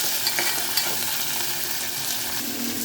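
Red chillies frying in a pan make a bright, continuous sizzle up close, broken by a few light clicks and stirring scrapes, with no voices.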